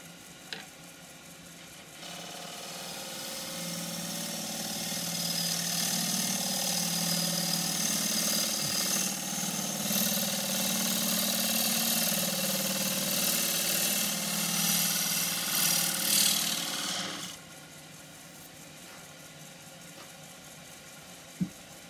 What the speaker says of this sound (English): This is going to start the cut at the bottom. Use the deep-fluted bowl gouge.